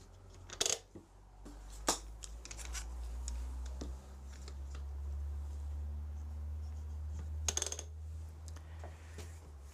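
Straight edges clamped onto a workpiece for a router jig, a few sharp metallic clicks and taps scattered over a steady low hum, close and fairly quiet.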